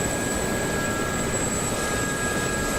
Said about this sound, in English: Bad's looking for a helicopter, because there was a helicopter floating around up here somewhere.